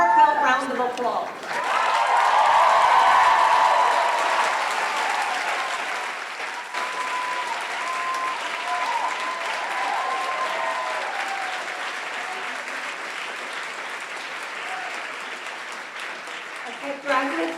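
At a 2023 commencement ceremony, graduates give a long, hearty round of applause that rises quickly and holds full for several seconds. The clapping then slowly fades over about fifteen seconds.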